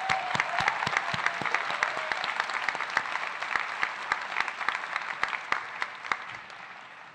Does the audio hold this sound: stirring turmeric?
no